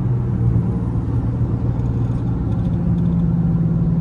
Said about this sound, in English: Got a little Mustang right there. He flying. GT, okay.